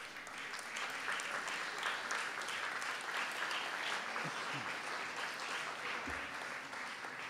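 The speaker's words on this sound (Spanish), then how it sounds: "fuerte el aplauso para este equipo también, finalista" An audience at an awards ceremony for the Fotolectura contest applauds a finalist team, with dense, steady clapping sustained throughout and a few faint voices underneath.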